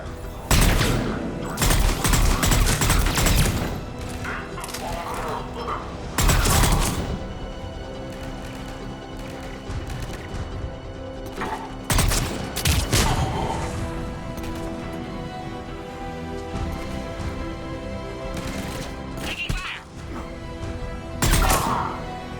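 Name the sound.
gunfire in a firefight in the video game Mass Effect 3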